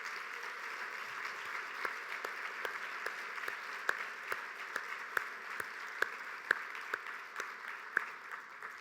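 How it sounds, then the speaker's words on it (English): Steady applause from a banquet audience at a business hall of fame ceremony honoring inductees, a broad wash of clapping with sharper individual claps standing out, moderately distant and sustained throughout. "how about one more round of applause for our honorees and their achievements"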